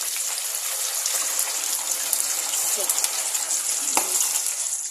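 Pieces of murrel fish frying in hot oil make a steady, loud sizzle, broken by occasional small pops and spits.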